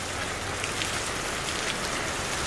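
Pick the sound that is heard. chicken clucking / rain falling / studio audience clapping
rain falling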